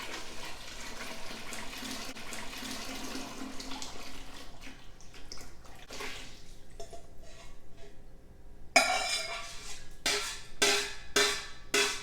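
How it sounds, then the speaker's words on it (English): Dissolved sugar water is poured into blueberry pulp and juice for wine, a soft trickling at first, then louder splashing gushes in several bursts near the end. "All right, so we got our sugar water dissolved. We're gonna go ahead and add it to our pulp and juice."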